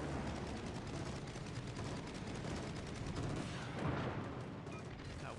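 Rapid gunfire from weapons in the PTS video game, a dense, continuous crackling barrage that fills the whole stretch at steady loudness with a brief swell near the end.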